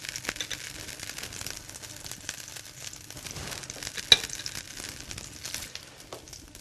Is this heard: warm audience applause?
no